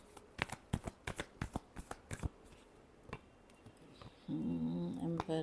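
Tarot cards are shuffled in a quick run of crisp, sharp riffling slaps that slow to a few separate snaps, then a soft hum takes over near the end.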